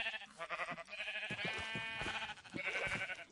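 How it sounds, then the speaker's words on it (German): Sheep bleat repeatedly in the Minecraft video game, several wavering cries close by, with short gaps between them. "ich verkloppe gerade ein Schaf mit einem Bett"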